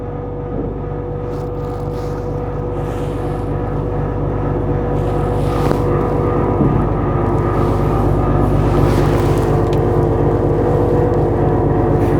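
Hydraulic bed of a 2025 Kenworth T480 dump truck lowering, a loud steady mechanical drone with engine hum that builds slightly and holds for the whole stretch.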